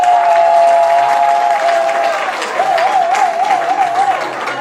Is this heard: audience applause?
yes